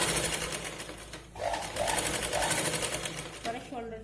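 A sewing machine double-stitches a katori blouse toward the shoulder, running in short loud whirring bursts with brief pauses between them while a voice talks over it.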